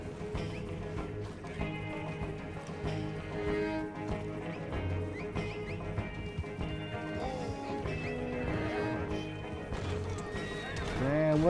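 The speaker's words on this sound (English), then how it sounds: "My horse." Horse in the Red Dead Redemption 2 Online video game, with hooves clip-clopping and a whinny amid busy game sound, under steady background music and effects.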